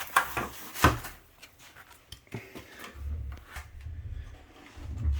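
A small 7-inch pencil drawer for an undermount stand-up desk is handled at close range, giving a few quiet clicks, knocks and sliding rattles with soft low thumps between them.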